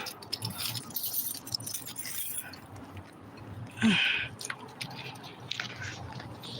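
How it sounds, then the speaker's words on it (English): A bunch of keys jangles and rattles close by in short bursts, with a sharper clinking flurry partway through, amid faint background noise and handling sounds. "hold on, I gotta get the keys."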